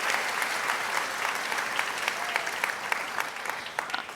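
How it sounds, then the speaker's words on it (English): A crowd at a UCLA humanities commencement claps steadily, many hands forming a dense rattling wash that swells slightly toward the end, heard fairly close with a faint murmur of voices underneath. "let's give a round of applause to everyone who's part of your community and your support system"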